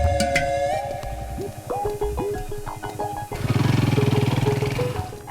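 A motorbike starts up and revs as it pulls away, its engine note rising from about midway and staying loud and close, with background film music and street sounds running underneath.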